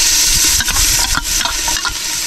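Garlic and onions stirred in butter and a little oil in a pot for shrimp sopas, a steady scraping and sizzling with repeated spoon strokes against the pot, loud and close.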